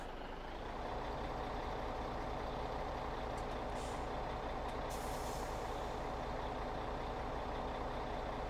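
A log truck in Farming Simulator 17 idles with a steady, loud diesel rumble, and short hissing bursts of air brake release cut in partway through, with no talk over it.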